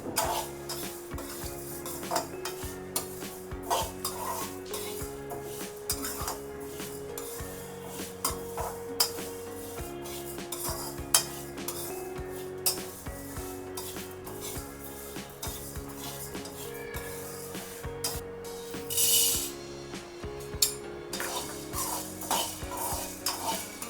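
Dry-roasting chakli bhajani flour ingredients in a pan over a medium gas flame, stirred steadily. Near, continuous scraping and frequent metallic clinks run throughout, with a soft melodic backing underneath.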